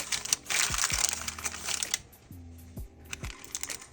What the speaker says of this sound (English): Cover with a piece of parchment paper.